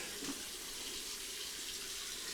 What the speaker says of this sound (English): When you get fuel in your eye, make sure to flush the eye out.